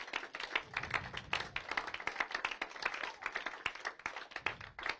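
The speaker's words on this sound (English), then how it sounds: "Let's clap our hands unto God for his goodness" A church congregation claps hands together at the close of an evening service, a dense, steady patter of many overlapping claps that fills the room without pause.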